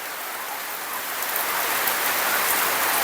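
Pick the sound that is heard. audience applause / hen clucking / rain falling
rain falling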